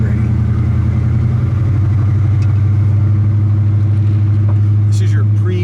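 A 1961 Pontiac Catalina's 389 tri-power V8 running while driving, a loud, steady low rumble with a slight rise in pitch partway through, under a voice talking.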